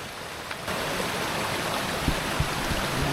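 A river flowing just ahead along a wild mountain gold trail, a steady broadband rush of moving water that fills the clip, with a few low knocks and thumps near the microphone late on.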